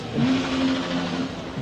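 An enduro motorbike at the finish of a hard enduro race revs briefly nearby, a short, steady engine drone held over crowd and background noise.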